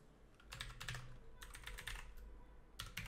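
A password is typed on a computer keyboard: faint, quick bursts of light key clicks in several short clusters, close to the microphone in a quiet room.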